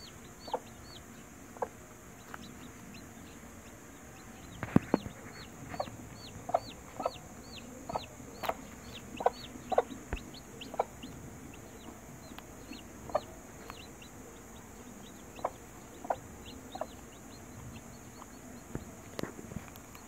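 Hens cluck with scattered short chick peeps in a backyard chicken-breeding setting, a steady run of soft calls spread across the whole stretch over a faint background hiss.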